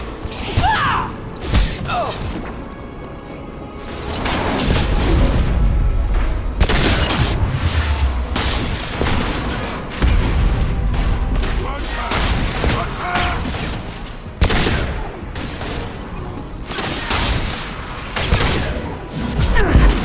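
Impact shot blasts and other combat effects crash repeatedly in a Mass Effect 2 firefight, with heavy booms, mechanical clatter and sharp bursts spread across a continuous loud battle, and occasional voices between them.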